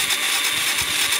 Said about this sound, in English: Sounds like an engine.